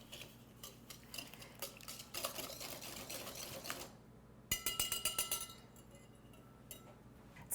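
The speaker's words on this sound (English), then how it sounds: "Now I'll give this a little whisk." A whisk beating a London Fog drink made with vanilla syrup in a bowl for madeleines, rapid rhythmic clinking that stops for a moment, then resumes in quick close bursts.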